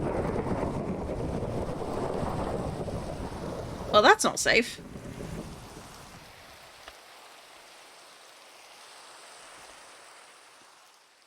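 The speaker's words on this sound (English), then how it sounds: "And now it's raining on the volcano." Rain and thunder in Minecraft atop a volcano: steady rainfall hiss with a sharp crackling thunderclap midway, then the rain fades quieter; a voice speaks briefly over it.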